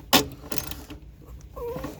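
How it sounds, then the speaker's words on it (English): Harbor Freight 1/4-inch drive flex head ratchet loosening bolts in a 2011 Prius 12V battery compartment: a sharp click followed by a few quieter ratcheting clicks and creaks, close and alone. "Flex head ratchet, getting these out."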